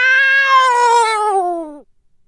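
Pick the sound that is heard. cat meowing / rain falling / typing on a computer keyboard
cat meowing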